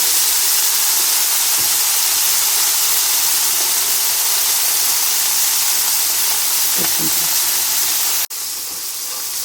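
Prawns sizzle on a barbecue grill in a constant bright hiss, loud and close, with a few faint clinks and a sudden drop in level near the end.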